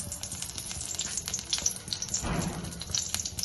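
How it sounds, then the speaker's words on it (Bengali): Crushed cardamom and cinnamon fry in oil left from frying onions, giving a soft, steady crackling sizzle with light stirring clatter and a few small pops, no one speaking. "এই পেঁয়াজ ভাজার তেলের মধ্যে আমি ফোড়ন হিসেবে দিয়ে দেব এলাচ"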